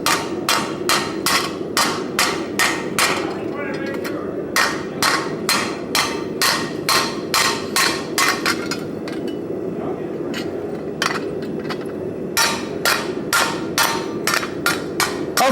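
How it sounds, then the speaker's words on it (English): Hammer flattening metal to leave a stipple texture at a blacksmithing conference, heard as a long run of loud, sharp, evenly paced ringing strikes, with brief pauses between bursts. "I use this hammer to flatten, but it also gives a fake stipple"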